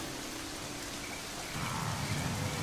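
Heavy rain falls in a dense, steady roar that swells louder about halfway through, with no voices over it.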